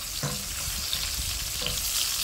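Garlic fries in hot oil for pancit, a dense, loud crackling sizzle that holds steady with small pops and faint stirring bumps, no talking.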